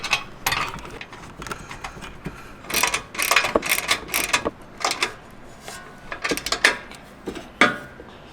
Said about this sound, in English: And use a wrench to tighten it in place.